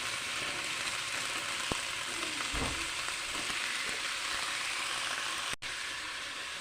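Cauliflower florets and beans frying lightly in ghee make a continuous, even sizzle, close and moderately loud, with a brief stirring clatter midway and no talk.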